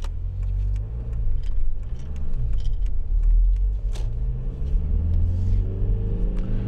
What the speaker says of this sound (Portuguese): Vou arrancar com o carro